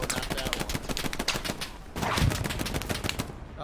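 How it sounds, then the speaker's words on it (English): Rapid bursts of rifle and machine-gun fire crackle in a World War II battle in Hell Let Loose, sharp shots rattling in quick succession with a heavier thump midway, close and loud. "they're shooting us from the building"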